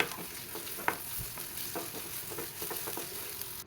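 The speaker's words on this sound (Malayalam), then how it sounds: "ഒരു പകുതി സവാളയോ അല്ലെങ്കിൽ 5-6 ഉള്ളിയോ ഇതുപോലെ ചെറുതായിട്ട് അരിഞ്ഞ് 2 പച്ചമുളകും കൂടി ചേർത്ത് നന്നായിട്ടൊന്ന് വഴറ്റിയെടുക്കാം" Chopped onion and two green chillies sauté in hot coconut oil, with a steady quiet sizzle and scattered scraping stirs of a spoon in the pan.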